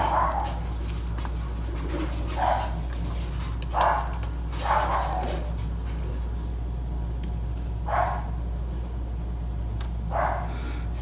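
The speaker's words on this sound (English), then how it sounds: "Sorry for the barking." A dog barks several times at a distance, single spaced woofs over a steady low hum and background noise.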